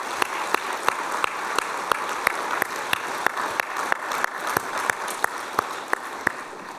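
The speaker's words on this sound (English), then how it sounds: "Let's give everyone a big round of applause." Applause fills a forum hall at Stanford's China Economic Forum: a soft, continuous bed of audience clapping, punctuated by one nearby clapper's sharp, evenly spaced claps about three per second.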